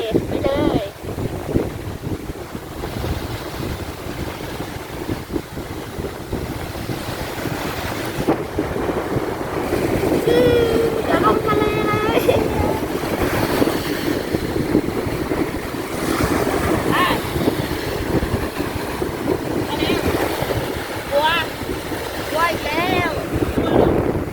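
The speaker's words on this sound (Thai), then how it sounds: "ลมแรงดี มาถึงทะเลแล้วจ้า" Strong wind buffets the microphone while sea waves wash in continuously at Ban Krut beach in Prachuap Khiri Khan, loud and close, with people's voices talking now and then.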